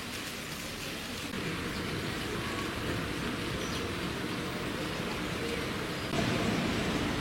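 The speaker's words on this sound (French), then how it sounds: "il pleut comme vache qui pisse" Heavy rain pouring down outdoors in Mulhouse, a dense constant hiss of drops on surfaces that stays steady and grows slightly louder near the end, with no voices.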